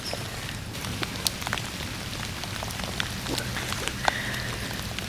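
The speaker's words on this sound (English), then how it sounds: "Again, it's raining out, and just trying to keep this fire going." Rain falls steadily outdoors during a primitive bow drill fire-making session, a dense patter of drops on surfaces with occasional sharper nearby drips, fairly loud and continuous.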